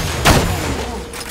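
Enemy gunfire in Borderlands 2 while a badass nomad attacks, with a short burst of shots near the start over a constant loud game din, a fainter crack following later.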